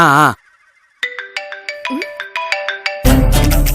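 A mobile phone ringtone sounds in a series of bright, evenly spaced electronic tones over about two seconds, with a short voice just before it and louder talk cutting in right after.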